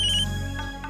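A phone rings with an incoming call, a steady electronic ringtone melody playing close and clear for the whole moment, with no voices over it.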